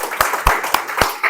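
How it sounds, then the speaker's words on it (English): Sparse clapping from a small meeting audience, a handful of separate claps spaced through a short burst rather than a full ovation, fairly close and moderately loud. "I want to hear your applause."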